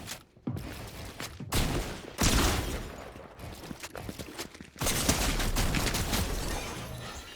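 Video game weapon fire, bursts of loud rapid gunshots broken by short pauses, then a sustained stretch of heavy firing near the end.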